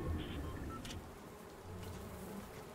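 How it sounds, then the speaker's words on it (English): Wasps buzz in the video game Fortnite, a continuous low droning hum of insects with faint game sounds and brief clicks over it, quiet and steady throughout. "They're wasps?"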